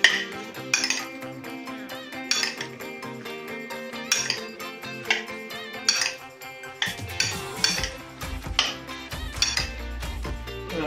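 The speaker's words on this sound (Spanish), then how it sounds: "Ahí, tres patatas bien revueltas con esto, con el aceite" Potatoes being stirred with oil in a pan, heard as repeated clinks and scrapes of a utensil against the pan in irregular bursts, close and fairly clear, with a lower rumbling stretch toward the end and no talking.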